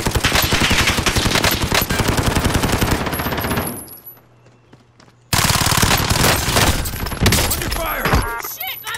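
Rapid automatic gunfire in a shooter video game, a dense rattling stream of loud shots that stops abruptly, leaves a short near-silent gap, then resumes in heavy bursts.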